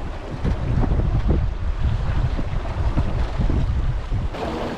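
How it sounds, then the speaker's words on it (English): Strong wind buffets the microphone while a Welsford SCAMP dinghy sails in choppy water, a continuous loud rushing roar mixed with splashing waves. "The wind is picking up."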